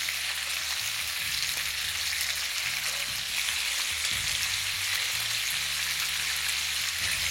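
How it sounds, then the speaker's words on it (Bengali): Prawns fry in a hot pan with oil, a dense continuous sizzle and crackle held close and steady throughout, with no talking. "আর এই চিংড়ি মাছগুলোকে কিন্তু আপনাদের 30 সেকেন্ডের বেশি কুক করা চলবে না।"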